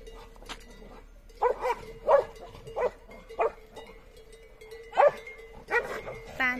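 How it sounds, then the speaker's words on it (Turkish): Dogs attacking each other on a farm with cows nearby, giving a run of short, sharp barks and yelps in irregular bursts at moderate distance over a low background hum. "Köpekler birbirine saldırıyor."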